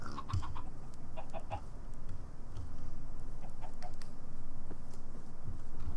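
Chickens in the video game Minecraft cluck repeatedly at close range over a steady background hum, with short clucks scattered throughout and no talking.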